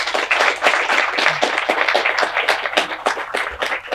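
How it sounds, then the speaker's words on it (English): Lively applause from a crowd at an outdoor-style solar press conference, fairly loud, dense clapping holding steady throughout with no voices on top. "Let's give Senator Smith a round of applause."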